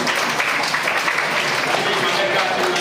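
Children in a first-grade Thirukkural class clap their hands together in dense, continuous applause that stays close and loud throughout.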